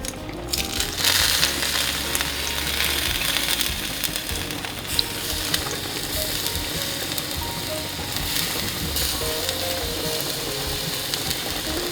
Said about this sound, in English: on the stovetop here, I have some garlic, I have some oil